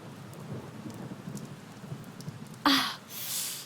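Steady patter of rain, then a sudden loud crack of thunder followed by a rushing downpour.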